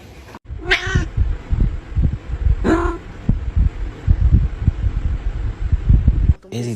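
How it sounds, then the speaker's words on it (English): A cat meows twice, loud drawn-out cries near the start and after a couple of seconds, over steady low thumping and fan-like noise. "It's just a cat."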